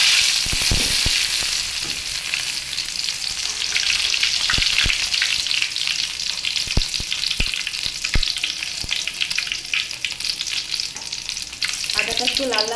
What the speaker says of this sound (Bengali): আমি একটি কড়াইয়ে তেল গরম করে নিয়েছি, আর ওখানে দিয়ে দেব একটু আদা, থেতো করা আদা দিয়ে দিলাম